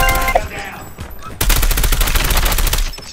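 Bursts of automatic gunfire from a Call of Duty Mobile match: a brief shot early, then after a short lull a loud, dense stream of rapid shots fills the rest of the clip, close and continuous.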